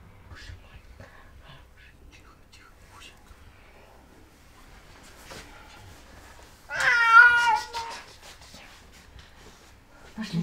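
A frightened cat in a Kyiv apartment building after a strike gives one loud, drawn-out meow near the middle, after quiet talk and background noise.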